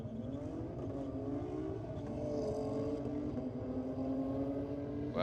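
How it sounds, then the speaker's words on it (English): A Ford Falcon and a BMW launch down a drag strip at night, their engines roaring together in a sustained, rising drone that builds in pitch and loudness as they accelerate away. "the Falcon launched out, but the BMW has just powered through"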